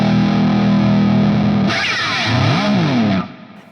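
A distorted electric guitar riff played on a PRS fitted with a Floyd Rose tremolo: a loud, sustained low chord gives way to bending, pitch-shifting lead notes before cutting off abruptly, with no talking.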